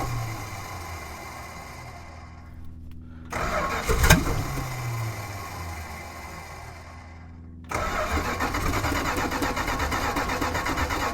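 A 1972 Plymouth Road Runner with an exhaust leak cranks over, then its V8 fires and settles into a loud, rough, steady run close by, with no talk.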